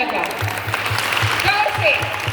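An audience at a Christian women's gathering claps loudly on request, a dense steady burst of applause mixed with voices and cheering, close and continuous.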